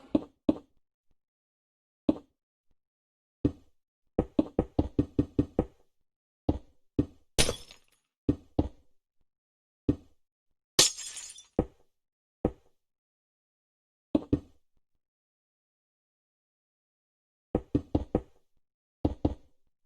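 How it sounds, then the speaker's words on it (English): Glass blocks being placed one by one to build a box in Minecraft: a rapid series of short, crisp knocks in quick bursts and scattered singles, with a couple of brighter glassy clinks, alone and close. "So I'll just build a glass box all the way around."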